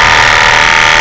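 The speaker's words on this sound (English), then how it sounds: "The sander emery." An emery sander in a tiny wood shop for makers runs steadily, a loud, close, continuous motor whine with a bright abrasive hiss and no pauses.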